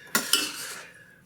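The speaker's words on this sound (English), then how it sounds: "get our ladle out to one side and just start ladling this on to the rice" A metal ladle clinks twice against a pot while scooping caramelized pork sauce onto rice, two sharp close knocks followed by a faint ringing tail.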